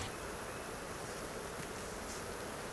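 A dense, continuous buzzing drone of many honey bees swarming close by around hive boxes full of honey in a bee yard, steady and unbroken, with no voices.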